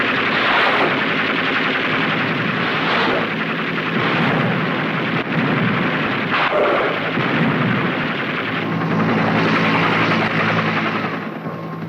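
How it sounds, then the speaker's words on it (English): Navy Seawolf helicopters fire machine guns and air-to-surface rockets in support of river patrol boats during the Vietnam War in 1968; loud, continuous bursts of gunfire and heavy blasts overlap in a dense, rumbling barrage. "Armed with machine guns and air-to-surface rockets, the Seawolves are prepared to move quickly to the scene of action."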